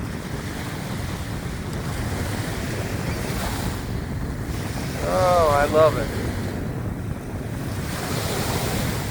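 Waves break continuously along the Lake Erie shore under steady wind buffeting the microphone, a broad rushing wash throughout, with a brief spoken exclamation near the middle.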